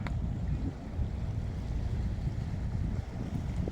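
Boat engine at a pier while guests board for a trip to Koh Samet, a steady low rumble with water and wind noise, close and continuous, with no talking.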